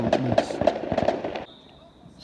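Bonfire night fireworks crackle and pop in a quick, dense volley, fairly close and loud, then cut off abruptly, leaving a faint outdoor hum.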